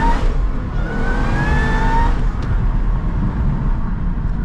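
A Chevy SS V8 fitted with a new intake revs loudly and close up, the engine note rising and falling in strong surges with a steady rumble underneath.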